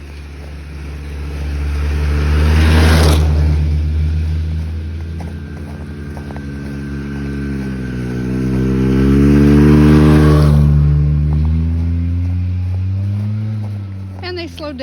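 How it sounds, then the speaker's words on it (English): Snowmobiles coming down a snowy trail pass one after another, each engine droning louder as it nears, then fading before the next approaches and swells. "I just thought I would tape these skidoos coming down the trail."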